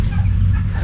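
Hens on a Filipino farm cluck and murmur in a low, close, continuous burble, brief and fairly loud.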